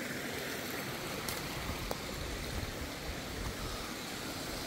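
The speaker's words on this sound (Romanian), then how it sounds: "Ce pârâiaș frumos avem aici." Small stream running through a forest in the Apuseni Mountains, its water a little murky: a steady, moderate broadband wash of flowing water with no break, a single faint click partway through.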